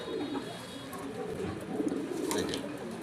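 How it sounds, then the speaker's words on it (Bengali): A male pigeon of a fancy breed coos in soft, repeated throaty pulses close by, with faint talk in the background. "100 নর কবুতরটা আরো পাগল, এই দেখেন।"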